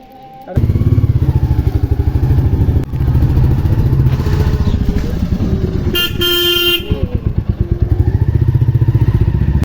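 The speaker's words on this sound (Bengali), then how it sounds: "তো তোমাদের দাদার বাইকে করে বেরিয়ে পড়লাম।" A motorcycle ride with the engine droning loudly and steadily close up, with a brief horn toot partway through.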